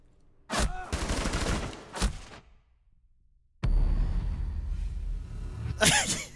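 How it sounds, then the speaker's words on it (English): Gunfire in the tactical shooter Rainbow Six Siege: a loud, close burst of rapid shots, a single sharp shot, a pause of quiet, then another sustained volley that ends in a final loud crack. "Why'd you shoot me like that?"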